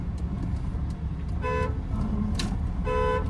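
A car horn sounds in two clear honks on a narrow road, the second held a little longer, over a steady low engine and road rumble from inside the car.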